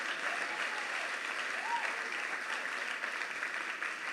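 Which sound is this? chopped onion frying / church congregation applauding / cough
church congregation applauding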